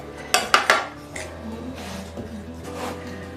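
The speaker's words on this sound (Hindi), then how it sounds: "अभी हम आपको डिश आउट करके दिखाते हैं फाइनल लुक इसकी।" Pulao is served onto a plate with metal utensils: three sharp clinks of spoon against dish come close together, followed by softer scraping and tapping.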